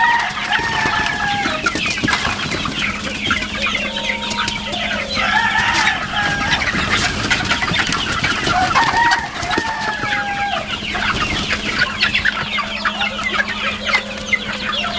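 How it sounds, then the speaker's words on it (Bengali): A flock of Sonali chickens clucks busily while feeding, many overlapping calls close by over a constant low hum. "এখানটায় অনেকগুলো মুরগি এসে খাচ্ছে"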